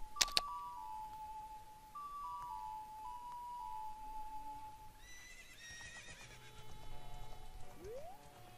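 Epona the horse in Zelda Ocarina of Time gives a sharp whinny, then hoofbeats clip-clop as she sets off galloping, the in-game sound effects set over soft chiming background music.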